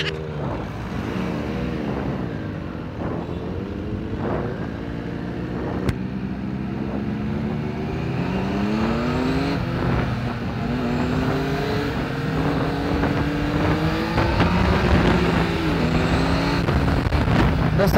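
A Benelli TNT 1130/899 motorcycle engine and exhaust drone steadily while riding, with the pitch rising and falling through throttle changes, moderately close, alongside other traffic noise.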